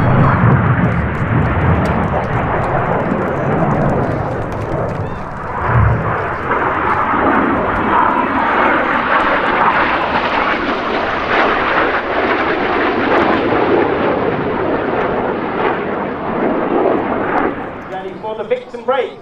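Red Arrows jets fly the anniversary break at the Midlands Air Festival 2024, a loud sustained roar of jet engines sweeping overhead, with an announcer's voice over it before it fades near the end.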